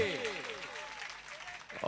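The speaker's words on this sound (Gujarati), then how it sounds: "તાળીઓનો ગગડાટ શરૂ કરો તમે" A village crowd claps at a lucky draw held at a Ram temple in Ambardi, the applause a continuous rustling roar under a voice speaking over it.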